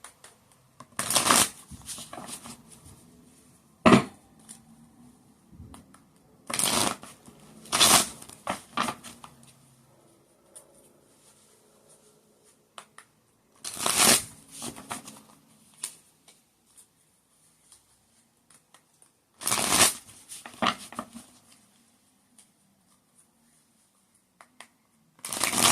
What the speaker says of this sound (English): 6 shuffles.